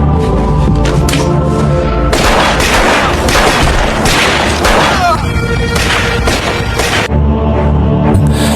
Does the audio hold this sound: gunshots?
yes